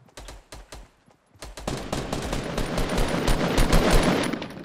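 Video game gunfire in Fortnite: a few separate sharp shots, a short pause, then a dense rapid stream of automatic fire that grows louder and steadier.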